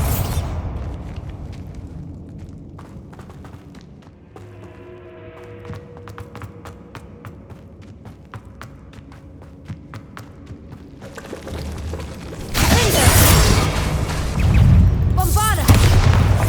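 A Bombarda spell in Hogwarts Legacy ends in a loud, rumbling blast after quiet tapping and a faint tonal passage, with heavy booming noise filling the last few seconds.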